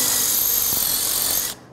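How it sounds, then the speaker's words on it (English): A power drill bores out set screws on old, rusty metal, giving a loud, close, steady high whine and grinding rasp for over a second before stopping abruptly. "And we're gonna drill out these set screws"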